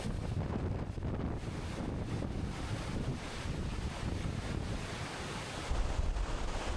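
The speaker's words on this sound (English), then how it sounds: "It's one of the most terrifying forces of nature. Storm surge." Hurricane Helene storm surge churns as a constant roar of crashing waves and water, buffeted by heavy wind noise, dense and unbroken throughout.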